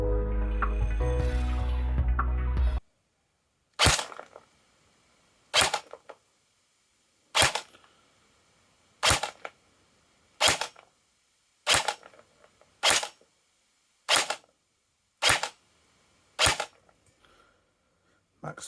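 An Arcturus AR AT-AR-01-RF airsoft rifle fires about a dozen single shots at a steady pace during a rate of fire test, each crack sharp and close, with near silence between shots and a short burst of louder noise at the very start.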